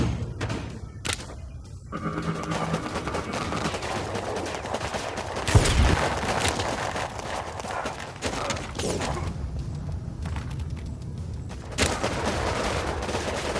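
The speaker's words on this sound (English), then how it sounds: "Oh man, I got an airstrike coming in." Gunfire and a distant airstrike in the WarPips war video game, with dense, continuous battle noise, scattered shot bursts and a heavier impact near the middle, no talking.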